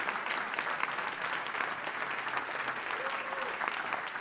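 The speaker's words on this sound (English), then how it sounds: "Please give a big round of applause" Steady applause from an audience at a Burning Man theme camp symposium panel, honoring the camp leaders, sustained and even throughout with faint voices mixed in.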